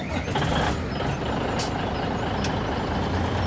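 Heavy truck in Farming Simulator 17 on an Upper Mississippi River Valley farm map, its engine droning steadily and loud throughout with faint reversing beeps and a brief air-brake hiss.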